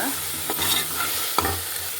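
Tomatoes stirred in hot oil in a pan for village-style country chicken biryani, a steady close sizzle broken by scraping spoon strokes, with no talking.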